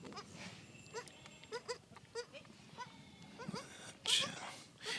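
Goats bleating repeatedly outdoors in an Indian village farmyard, several short nasal calls spread through the clip at moderate distance, with faint background voices and a louder call near the end.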